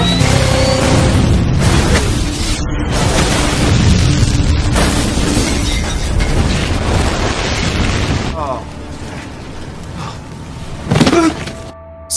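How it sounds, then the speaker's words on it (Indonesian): An explosion in a film rolls out as a loud, continuous rumbling roar with crackling debris, fading to a lower rumble before a final short burst near the end. "Clark Devlin yang terkena ledakan yang sangat parah"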